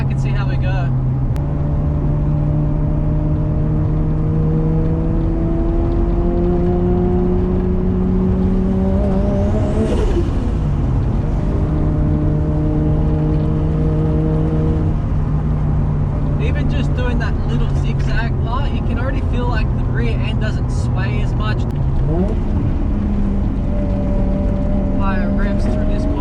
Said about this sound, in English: Higher revs through this corner just to see how it feels.